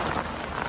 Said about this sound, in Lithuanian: Dieną buvo karšta, o dabar čia ant galo lietus. Perkūnijos yra, žaibų.